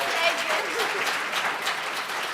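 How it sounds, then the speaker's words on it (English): A synagogue congregation claps for a girl at her bat mitzvah, producing a dense, even wash of applause throughout, moderately loud and unbroken. "Big hand for Kiryn G."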